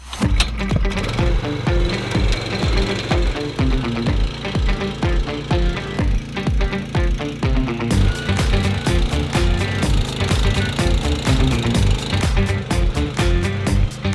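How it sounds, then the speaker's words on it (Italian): A motorized rotary tiller churns manure into potato field soil, a loud, steady engine drone with rapid rhythmic knocking from the tines, continuous and close throughout. "poi integreremo il tutto con la fresa"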